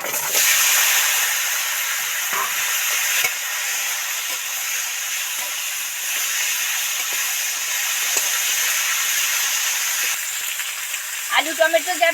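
Steady loud sizzling of tomato and potato frying in oil with dried chillies and bay leaves, continuous hiss throughout with a few faint clicks near the end.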